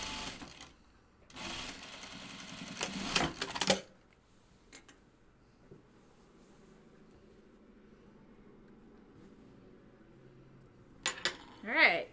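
A sewing machine on its free arm stitches a jeans cuff in two fast bursts of rapid clatter, then quieter handling and fabric shuffling, with a voice briefly at the end.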